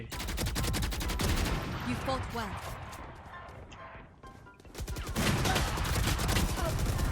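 Rapid rifle fire in the tactical shooter Valorant, dense loud bursts at the start and again near the end with a quieter lull between, while a voice talks over the game.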